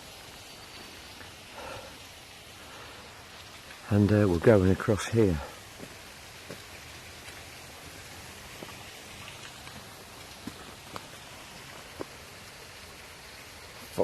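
Rain falls steadily on the Appalachian Trail in 2017, a soft continuous patter across the whole stretch with a few drips, while someone speaks briefly over it near the middle.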